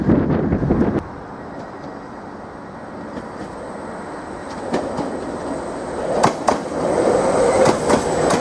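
A passenger train pulls into a platform at Norwich Station, wheels clattering over rail joints with broadband rumble throughout and sharper clanks and squeals as it draws nearer toward the end.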